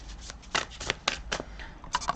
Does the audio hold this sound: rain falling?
no